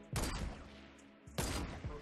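Two quick bursts of rapid gunfire in Fortnite Battle Royale, each a short clustered volley of sharp shots separated by a brief pause, fairly faint in the mix.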